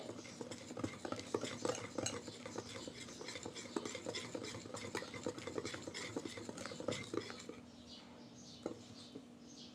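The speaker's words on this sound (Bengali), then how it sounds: "আমি আরও ভালো করে ফেটিয়ে নেব" Semolina batter for sujir rosh bora whisked briskly in a bowl, a rapid close run of rhythmic scraping and tapping that eases off near the end, with faint speech in the background.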